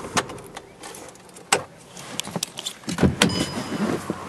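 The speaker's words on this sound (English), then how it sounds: "Bring the automatic driver's side window back up and just cut the vehicle off right here." Power window on a 2015 Volkswagen Jetta 2.0S closing, followed by the 2-liter engine shutting off, heard as close mechanical clicks, a brief motor whir and sharp knocks inside the cabin.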